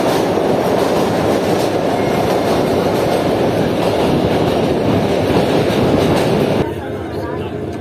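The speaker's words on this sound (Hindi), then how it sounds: "पूरे 8:05 पर ट्रेन से पड़ी मलिर रिवर ब्रिज" The Mohen Jo Daro passenger train crossing the Malir River bridge, a loud, dense rumble and rattle of wheels and coaches heard close by, easing to a quieter roll in the final second.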